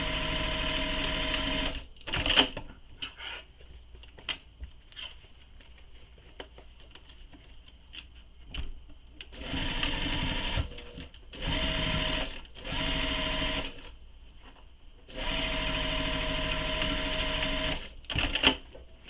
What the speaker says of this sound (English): You're just sewing the pockets.